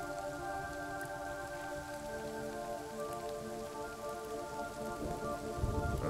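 Steady rain falls in the pirate video game Skull & Bones, a constant hiss of drops on surfaces under sustained musical tones, with no talk.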